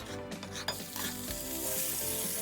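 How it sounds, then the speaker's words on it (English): Chicken pieces hiss and sizzle steadily as they hit a hot pot, a dense continuous frying crackle with faint stirring, close up and with no talking. "Now I'm going to add the chicken to the pot."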